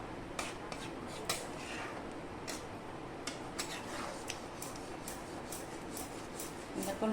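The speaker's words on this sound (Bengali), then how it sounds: "দেখো নাড়িয়ে ভালো করে মেশাচ্ছি আর কি" A spoon stirs and mixes egg tadka made with green mung beans and potato in a pot, giving soft scraping and a few light metallic clinks scattered irregularly under a low background hum.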